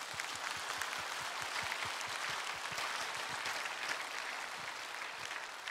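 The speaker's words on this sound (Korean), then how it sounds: "우리 하나님께 영광의 박수를 돌려드립니다" A church congregation applauds together in a large sanctuary, a dense, sustained wash of many hands clapping with a loosely steady rhythm, fairly distant and even in loudness, with no talk over it.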